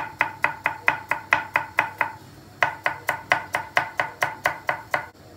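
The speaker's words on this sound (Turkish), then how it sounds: "Önce işe havuçlarımızı doğrayarak başlayacağız. Havuçlarımızı ince doğrayacağız." Carrots being finely chopped with a knife on a board: a fast, even series of crisp close knocks, about four per second, with a brief pause midway before the rhythmic chopping resumes.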